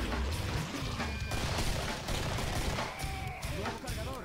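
Rapid gunfire from the video game Killing Floor, bursts of shots crackling over busy game noise with a voice talking over parts of it.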